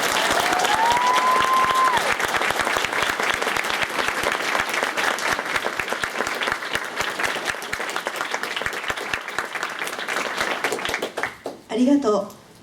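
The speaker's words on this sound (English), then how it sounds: "Could you all please give a big round of applause to Akemi Solo?" Sustained audience applause fills an anime convention closing ceremony hall, dense and steady for about eleven seconds before fading out, with a brief voice near the end.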